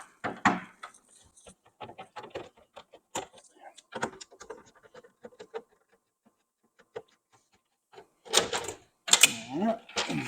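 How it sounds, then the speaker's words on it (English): Screws come out and a panel is pulled off a Manitowoc ice machine, giving sparse close clicks and small metallic rattles, then a louder clatter near the end, while someone talks now and then. "So let's get these screws out and get the panel off."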